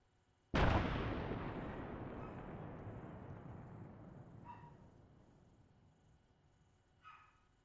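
Explosion at a military field training exercise, a single sudden loud blast followed by a long, slowly fading rumble that rolls on for several seconds, with faint distant voices near the end.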